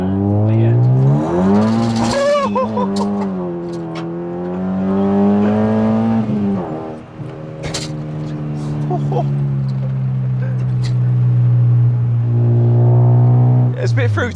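A Rover 100 small hatchback engine revs hard and pulls up through the gears, loud and close, with a steady throaty drone throughout.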